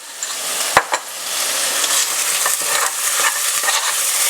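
Onion and spices, including Kashmiri red chilli powder, frying in oil for Maharashtrian misal: a steady, close sizzle runs throughout, broken by a couple of sharp spoon knocks and light stirring scrapes.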